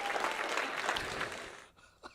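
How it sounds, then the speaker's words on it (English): Brief, fairly faint audience clapping on a morning chat show, a scattered patter that fades out after a second and a half, followed by a small isolated sound near the end. "Anyway, applause. Clap now."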